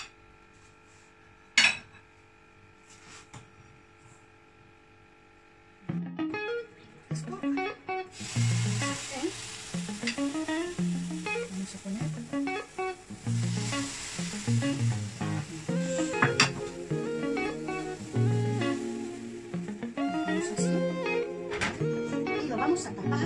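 Banana coconut cake batter fries in a little olive oil in a pan, a sizzle swelling after a quiet start, mixed with clinking utensils and spoken voices throughout.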